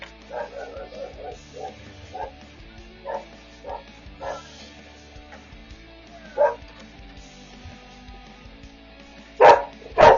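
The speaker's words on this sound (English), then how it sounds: "My dogs are so loud." Several dogs bark at home in a run of rapid, fairly faint yips early on. Scattered single barks follow, then two loud, close barks near the end.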